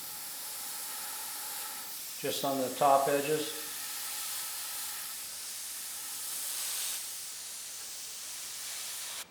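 Spray paint hisses from an aerosol can onto a stencil, a steady soft hiss running through most of the stretch with a brief spoken remark near the start.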